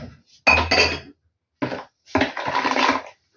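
Spoon clinks and scrapes against a bowl while pumpkin bun dough is stirred together with a yeast mixture, in short bursts of clattering separated by pauses, close and fairly loud.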